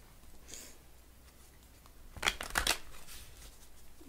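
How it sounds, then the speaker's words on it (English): Tarot cards are riffled and shuffled in a few quick bursts, close and crisp, against a quiet background. "Get these all ruffled, shuffled up here a little bit."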